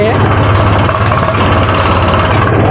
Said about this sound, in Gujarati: આપણે ટ્રેક્ટર લઈને આવતો